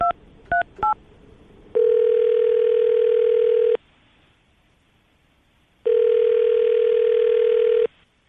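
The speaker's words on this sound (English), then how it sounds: "We can get her on the phone." Telephone call being placed: a few quick keypad dial tones, then two long steady ringback tones separated by a pause of silence, loud and close.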